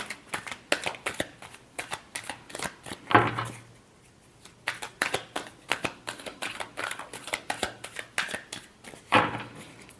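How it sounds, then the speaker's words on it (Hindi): Tarot cards are shuffled close by in rapid bursts of crisp riffling slaps, pausing briefly midway before the quick flicking resumes, with no voice over the sound. "Last shuffle."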